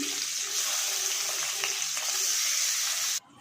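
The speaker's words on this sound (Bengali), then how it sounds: "বাকি মাছগুলো ভেজে নিচ্ছি" Pabda fish frying in mustard oil, a steady close sizzle with faint crackles and the occasional stir, cutting off abruptly near the end.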